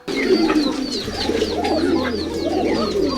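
Many pigeons in a room full of kept birds coo continuously in a dense, overlapping chorus, fairly loud and close, with high chirps scattered above.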